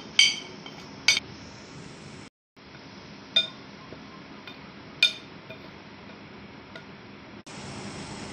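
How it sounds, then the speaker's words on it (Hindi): Spices for a fish-fry coating being mixed on a plate, heard as a few sharp clinks of a utensil against the plate between quiet scraping, close up, with brief silent gaps and no talk. "अभी इन सब को मैं एक प्लेट में इकट्ठा करूंगा और इनको अच्छी तरह हम मिक्स करेंगे।"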